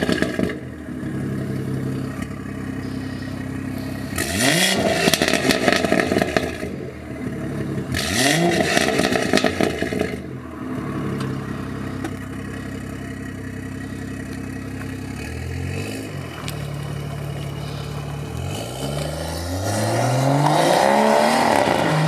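A stage 2 tuned BMW M140i is revved hard several times, with sharp rising blips and loud bursts over a rumbling idle, close by and without talking.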